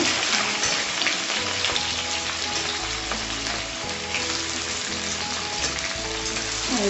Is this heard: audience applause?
no